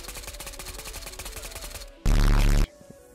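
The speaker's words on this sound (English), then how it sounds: "Someone's shooting at my fucking legs." Rapid automatic gunfire in the VR shooter Ghosts of Tabor: a steady stream of evenly spaced shots, then a much louder, blaring burst of fire for about half a second before dropping away.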